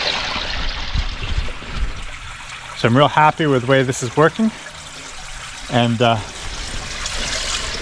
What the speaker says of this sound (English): there's a lot of water coming down through the woods, down into this hole and into this pipe